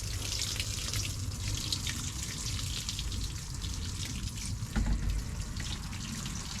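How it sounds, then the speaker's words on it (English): Water splashes and trickles steadily onto newly planted French beans on an allotment, a close continuous pouring with a brief louder gush near the end and no talk. "Give them a bit of a watering in."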